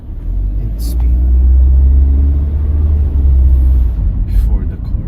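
A car engine rumbles loud and close during a driving lesson on a Japanese practice course, a steady low drone that swells slightly as the car accelerates, with brief speech over it.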